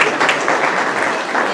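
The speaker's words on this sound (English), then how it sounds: "round of applause for the Rotary Foundation" An audience applauds at a Rotary Foundation event, a dense burst of many hands clapping at once, loud and close, lasting just over a second and a half.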